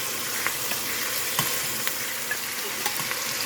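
Beef short ribs sizzle and fry steadily in a hot pan, a close continuous crackle with small scattered pops and faint utensil scrapes, no talking.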